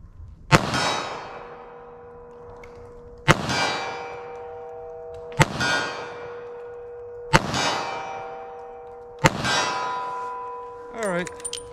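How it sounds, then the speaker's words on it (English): Five sharp gunshots from a Taurus 605 2-inch revolver, each followed by a ringing clang off steel targets 25 yards away, spaced about two seconds apart, with a faint metallic rattle at the end. "I'm going to do my shots on steel from 25 yards"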